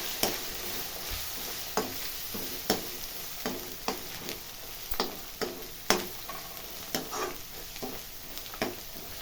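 Turmeric and masala fry in a pan for a chicken masala curry: a steady close sizzle broken by sharp spoon-on-pan scrapes and clinks roughly once a second, with no talking.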